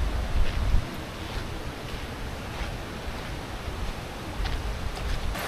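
River water flowing at Balagbag Falls in Real, Quezon, a steady broadband rush with no break, fairly close and alone with no voices.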